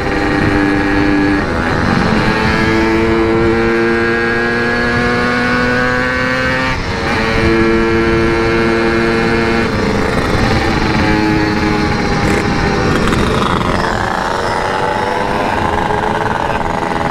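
A motorcycle fitted with a CRC Series Repsol exhaust revs hard and speeds past, a loud continuous engine roar climbing through the gears with shifting pitch, close to the listener throughout.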